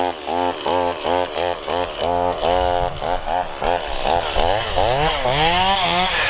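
DeWALT DCCS690B cordless battery chainsaw running loud and close, its motor pitch rising and falling in repeated revving bursts with a steady whine, no talk over it.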